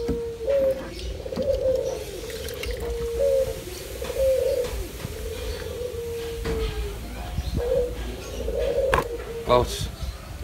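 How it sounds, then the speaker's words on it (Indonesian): Repeated soft cooing of a zebra dove (burung puter) in a steady rhythmic series, moderately near, with faint background noise. "Dan kita diiringi suara merdunya burung puter."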